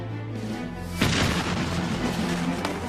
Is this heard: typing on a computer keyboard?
no